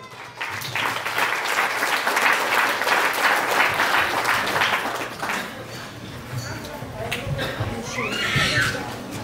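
Warm applause fills a quinceañera celebration, steady clapping from a crowd lasting several seconds, loud and continuous, with some voices mixed underneath as it tapers slightly near the end.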